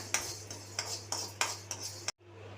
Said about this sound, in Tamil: இதையும் ப்ரௌன் ஆகிற வரைக்கும் வறுத்து எடுத்துக்கோங்க